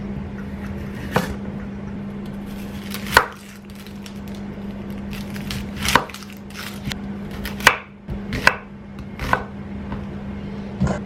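A knife chops a potato into big rustic chunks on a board, giving about ten irregular sharp knocks close by over a low steady kitchen hum.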